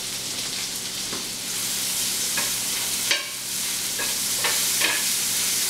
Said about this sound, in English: With my bacon, I'm adding 1 large onion, and I'm going to saute this